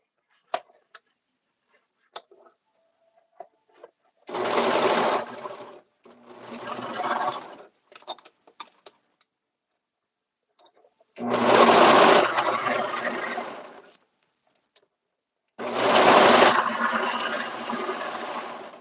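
A sewing machine stitches past the hem of a suit in four steady whirring runs, each a few seconds long, separated by pauses filled with faint clicks and handling noises.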